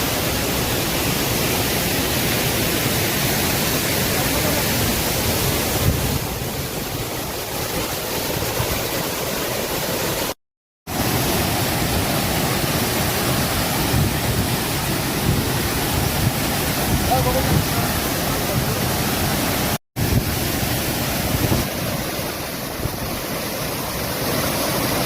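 Jonha Falls in Jharkhand roars up close as a broad, steady rush of falling water, loud and unbroken apart from two brief dropouts, with spray in the air and no clear talk.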